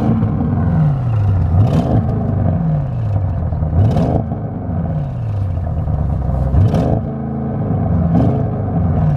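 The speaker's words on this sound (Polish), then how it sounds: "A mógłbyś dodać gazu? Pewnie. Pokażemy widzom, jak brzmi ten samochód." Audi RS7 with a 600 HP engine revs repeatedly against a 3500 rpm limiter, each throttle blip rising then falling in a loud, close roar, several cycles in a row.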